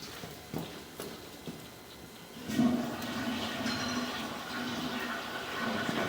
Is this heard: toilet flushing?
yes